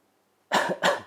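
Two sharp coughs close together, near and loud, after a moment of quiet, ending a breathing exercise.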